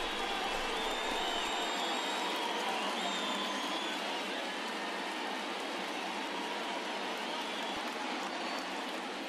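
Home crowd in a baseball video game roars steadily after a home run to right field, a dense continuous cheer filling the whole stretch with faint whistles on top.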